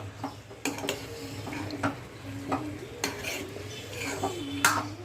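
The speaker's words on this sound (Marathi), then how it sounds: "चांगलं आता मिक्स करून घेऊया" A pan of ivy gourd vegetable with crushed peanuts being stirred and mixed, with repeated spoon scrapes and metallic clinks over a light sizzle, close and moderately loud.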